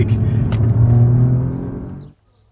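Alfa Romeo Giulia Quadrifoglio on a track in Italy, its engine a loud, close, steady rumble under hard driving for about two seconds before cutting off abruptly into near silence.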